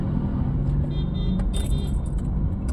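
An engine turns over and idles inside a car during a driving lesson, a steady low rumble close up with faint jangling and clicks above it.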